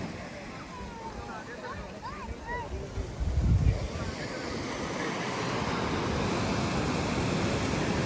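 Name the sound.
ocean surf waves at Arambol beach, Goa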